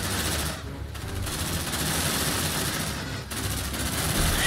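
Sustained automatic gunfire in the Aliens: Dark Descent video game, a dense continuous fusillade of rapid shots with brief dips in intensity, loud and close throughout.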